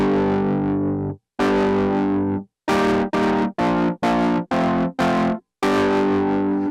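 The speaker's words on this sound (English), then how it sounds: "Now, Greg tried to explain this to me, but the whole idea behind the Wurly grinder is to give you a nice, warm distortion" Chords played through a Wurly grinder effect with warm distortion: a long held chord, a second one, then a run of short stabbed chords and a final sustained one, loud and saturated but with the notes still distinct.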